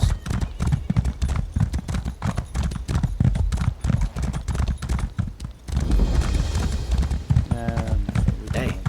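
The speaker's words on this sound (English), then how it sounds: "Come on, guys, get on your horses." Horse hooves clip-clop in a steady, rapid rhythm in Elder Scrolls Online during a jester festival, loud and near, with people talking over them and a brief neigh toward the end.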